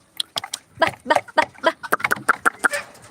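Chickens, including turkeys, cluck in a run of short, close calls, some overlapping, with a few sharper squawks among the steady clucking.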